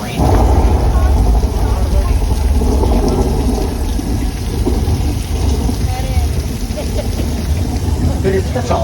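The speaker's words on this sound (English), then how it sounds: "This rain is the result of some sprinklers strategically placed at high points." Steady, dense hiss of falling water from high-placed sprinklers making artificial rain on the Universal Studios Hollywood tour ride, like heavy rain pattering continuously, loud and close.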